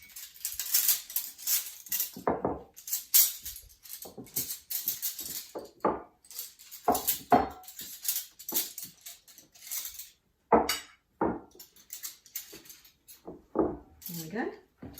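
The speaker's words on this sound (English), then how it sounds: "And then I just pop the cutlery around the place" Metal cutlery clinks and clatters in short bursts as pieces are set down one after another, with scattered light taps and knocks close by.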